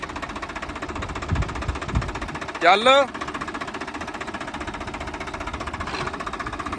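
A tractor engine runs near maize fields in a village with a steady, rapid, knocking chug that holds an even rhythm throughout, while a voice speaks briefly over it.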